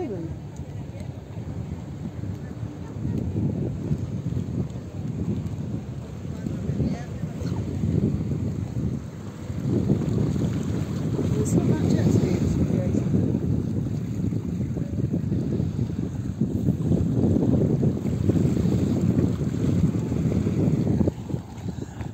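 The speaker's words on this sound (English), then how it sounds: "Look, these waves are getting really quite large." Large sea waves surge by a pier in a low, rolling roar that rises and falls in long swells, blended with steady wind buffeting the microphone outdoors at sunset.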